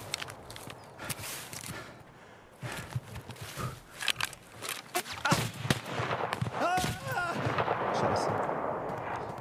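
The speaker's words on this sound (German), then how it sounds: "Ich hab gehofft, dass ich noch einen Schuss ansetzen kann, aber der hat ziemlich schnell den zweiten rausgehauen" M700 sniper rifle shots in the Escape from Tarkov video game, sharp loud cracks spaced irregularly over a rumbling outdoor backdrop with footsteps, ending in a steadier wash of noise.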